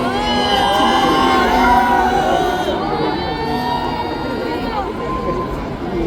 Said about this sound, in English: Our first winner, Ananta Khan, ladies and gentlemen, make some noise for Ananta.